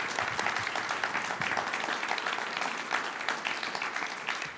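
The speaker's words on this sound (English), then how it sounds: "So can we have a round of applause for this panel this morning?" A room full of people applauds a panel at a morning all-candidates meet and greet, with dense, steady clapping that holds at an even level for several seconds.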